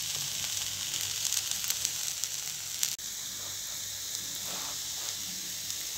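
Crispy jowar dosa cooking on a hot pan, a constant close sizzle with light crackles, briefly broken by a soft knock midway, then sizzling on quietly.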